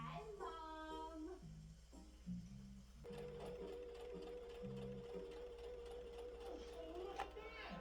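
A sewing machine stitches fabric in short rhythmic bursts and then a longer steady run, close and clear, while someone talks over it.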